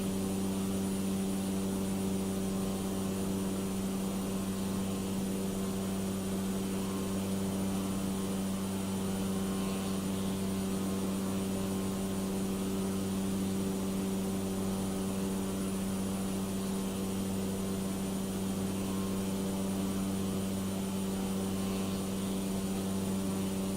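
Cessna 208 B single-engine turboprop droning steadily in Microsoft Flight Simulator, a loud, constant engine hum with strong tonal layers that runs without a break through the climb after takeoff.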